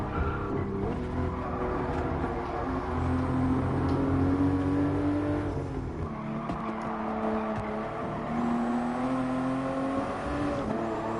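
Toyota GR Supra race car in the GR Supra GT Cup 2019 racing game on the Nürburgring, engine loud and steady with rising gear pulls, a shift near six seconds, and faint tire noise.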